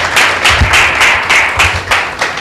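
A church congregation at a Sunday meeting claps loudly and in unison, a strong rhythmic applause of regular bursts about every third of a second, close and sustained with no talk.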